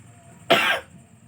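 A single sharp cough, close and loud, rising briefly out of a quiet background.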